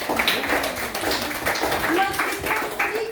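Classroom students clapping hands together in a brief, moderately loud round of applause indoors, with a few voices talking over the claps.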